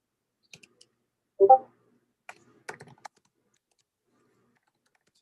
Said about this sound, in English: And so we're gonna type this in.